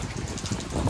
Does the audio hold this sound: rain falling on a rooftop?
yes